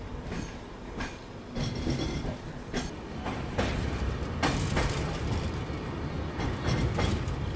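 Inside the Indore Daund Express as it nears Pune, a steady low rumble carries rhythmic clickety-clack wheel beats and occasional sharper knocks, continuous and with no voices.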